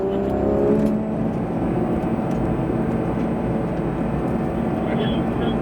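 A Porsche 911 (991) GT3 RS engine roars steadily at high revs on the Lohéac race circuit, a loud sustained drone with a faint whine above it. Voices speak over it.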